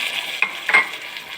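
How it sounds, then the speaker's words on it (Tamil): Mustard seeds fried in hot oil are poured into curd, making a close, steady sizzling hiss that lasts a brief moment, with a couple of small clinks partway through. "தாளிப்பதற்கு கடுகு, இந்த மாதிரி நல்லா சவுக்க வறுத்து இதில் கொட்டிக்கணுங்க"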